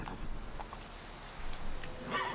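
Horse hooves clip-clopping in The Witcher 3, a fantasy role-playing video game, with a few soft irregular hoof beats spread across a busy low rumble of game ambience and no talking.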